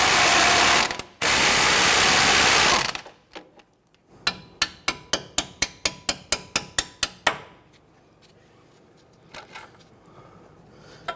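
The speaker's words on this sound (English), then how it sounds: "we're gonna put a 17mm socket or wrench on the other side and try and spin that bolt and break that free" A ratchet fitted with a 17mm socket spins a bolt on a 2011-2015 Kia Sorento front suspension: a burst of quick, evenly spaced clicks, preceded by loud rustling and followed by quieter handling noises, with no talk.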